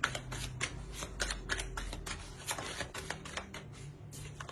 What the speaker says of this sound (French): Je vais rajouter une carte sur le 9 d'épée.